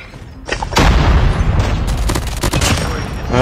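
Mythic MG42 machine gun in a video game unleashes a loud, sustained burst of rapid automatic fire, booming shots running continuously close up for about three seconds after a brief quieter lead-in.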